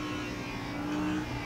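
A 2020 Audi R8 LMS GT4 race car in the Raceroom racing game, overtaking a KTM on track. Steady engine drone with a faint whine, heard from inside the car under load, brief and fairly quiet, with no talk.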